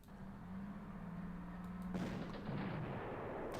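Tank cannon fire in the wartime strategy game Panzer Corps, a loud booming shot with a rumbling tail, heard alone against a steady low mechanical hum.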